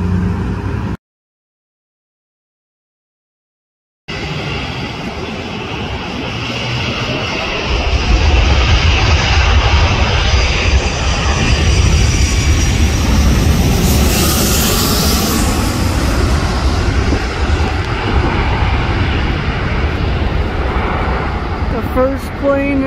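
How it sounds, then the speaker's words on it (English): A Korean Air Boeing 747 jet airliner, flying to Seoul, gives a loud, continuous jet roar that swells after a short silent gap and holds steady and close. "The first plane is the Queen of the Skies, the South Korean Air going to Seoul, Korea."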